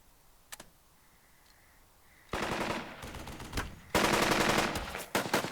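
Gunfire in the Burden of Command video game: after a quiet start with faint clicks, loud bursts of rapid machine-gun fire rattle in several sustained volleys, separated by short pauses.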